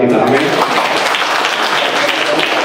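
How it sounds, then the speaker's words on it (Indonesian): A church congregation claps together in a dense, sustained burst during a worship service, with a voice briefly heard over the start. "Tepuk tangan buat kita, amin."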